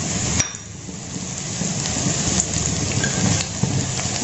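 Mushrooms fry in mustard oil in a pan, giving a steady, dense sizzle and crackle with a few sharp pops, heard close and alone without talk.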